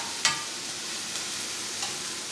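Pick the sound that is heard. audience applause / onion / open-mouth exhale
onion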